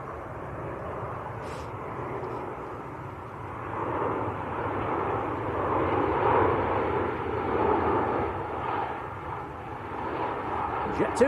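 A Jet2 airliner arriving from Grenoble at Manchester Airport gives a steady, broad engine roar that swells and fades gradually over several seconds, heard at moderate distance.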